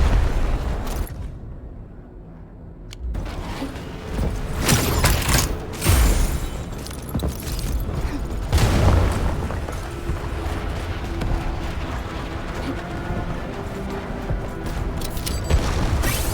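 Weapon strikes in the Arknights Endfield boss fight against the Marble Aggelomoirai: loud, dense booming explosions roll almost continuously after a brief lull, with heavy low thuds and crackling bursts layered over one another.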